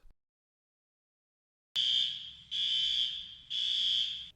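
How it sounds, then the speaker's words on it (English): An electronic alarm beeps in three loud, high-pitched pulses, each about a second long, after a short silence. "The alarm. Emergency. Something is wrong. Alarm is active."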